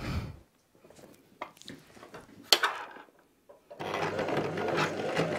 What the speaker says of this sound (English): Now, you're going to sew this on a sewing machine.